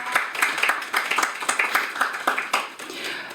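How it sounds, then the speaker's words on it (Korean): Audience at a panel discussion applauding to welcome guests: a steady patter of many hands clapping at moderate volume, with irregular individual claps throughout and no voices on top. "한 분 한 분 말씀드릴 때 큰 박수로 환영해 주시면 감사드리겠습니다"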